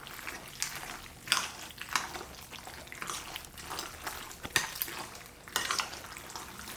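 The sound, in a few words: stirring shrimp mac and cheese in a pot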